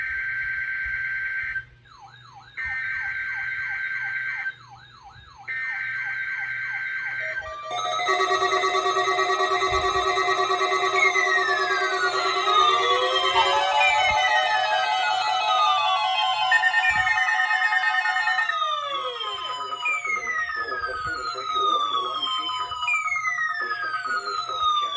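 NOAA weather radio station WXK85 sounds its warning alarm during a weekly test: a loud, pulsing two-tone beep in three bursts, then a long sustained tone layered with sweeping chirps and warbles.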